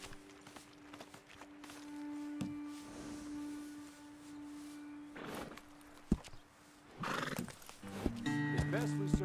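Horses from the video game Red Dead Redemption 2 whinny and clop along with walking hooves, a loud neigh near the end over a steady background tone, with faint voices mixed in.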